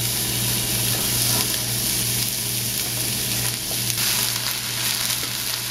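Sliced sweet onion sizzling in a warm pan with bacon fat, a steady crackling fry that carries on evenly and close by, with faint stirring and no voices.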